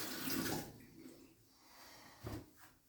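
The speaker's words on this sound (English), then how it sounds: "Getting the suds off my fingers." Running tap water rinses soapy suds off fingers, a brief splashing stream at the start that fades, followed by a quieter second splash.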